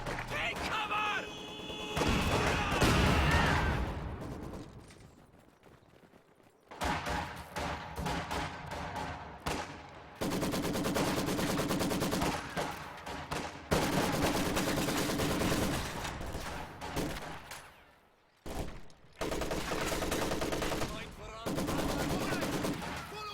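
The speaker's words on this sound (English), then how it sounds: "terror tactics with the quad mount half track." Rapid bursts of quad-mount half-track machine-gun fire in Company of Heroes 2, loud and repeated in long sustained volleys with short gaps, mixed with other battle noise and a commentator's voice.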